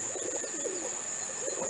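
Pigeons settled in a yard give soft, low rolling coos, repeated twice over a steady background hiss.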